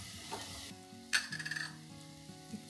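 Shrimp stir-frying in a hot pan for fried rice, a steady close sizzle with a burst of stirring and scraping partway through, no voices.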